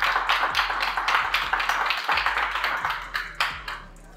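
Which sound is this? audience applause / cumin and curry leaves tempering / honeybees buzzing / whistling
audience applause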